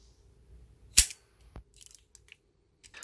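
Charging handle of a full-metal 1988 Dong San M16 mini model gun with M203, yanked back and snapped forward by its spring, one sharp metallic clack followed by a softer knock and small clicks, close and alone.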